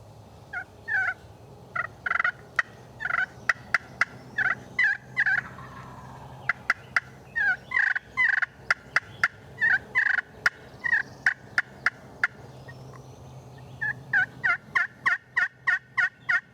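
Wild turkey gobbling across timber ridges, loud repeated gobbles in rapid rattling bursts, interspersed with sharp clucks and clicks, fairly close and clear over quiet woodland.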